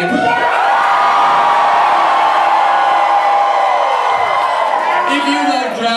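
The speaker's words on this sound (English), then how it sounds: "Give me a little scream if you love drag." A large crowd at a drag show screaming and cheering loudly and continuously, high-pitched shrieks blending into a sustained roar that fades slightly at the end.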